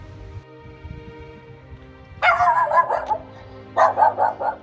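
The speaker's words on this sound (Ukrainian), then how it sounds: "яка кожен ранок зустрічає мешканців закладу своїм веселим гавканням" Small dog barking cheerfully, two quick bursts of several sharp, high yips each, loud and close, with a low hum running underneath.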